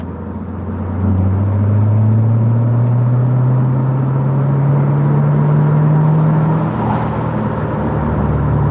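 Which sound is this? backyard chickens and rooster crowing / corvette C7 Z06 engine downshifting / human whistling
corvette C7 Z06 engine downshifting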